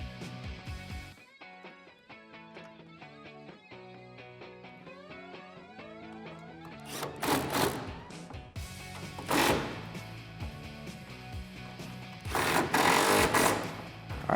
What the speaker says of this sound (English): Grab the factory bolts, put them back through, and tighten them down.